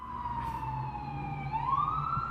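A Los Angeles emergency siren wails at a distance, one long tone falling slowly and then rising again, faint and continuous, with no voices.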